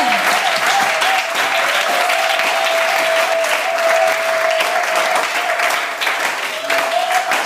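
A church congregation applauding together, a dense, loud and steady wash of clapping that holds for several seconds with faint voices and cheers mixed in.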